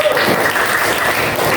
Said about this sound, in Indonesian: Ya, tepuk tangan untuk kelompok 1 ya.